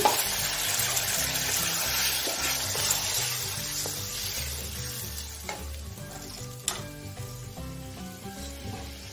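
Half a bowl of water hits a hot pan for sev bhaji with a steady, close sizzling hiss, with a few faint clinks of a utensil. No one speaks.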